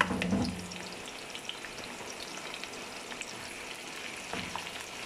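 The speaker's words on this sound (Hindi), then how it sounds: "इसमें अब हम प्याज डाल के फ्राई" Onions fried in about half a cup of oil for a lightly spiced desi-style arum (arbi) dish give a steady, soft sizzle, with a brief louder crackle near the start as they hit the pan, then an even hiss.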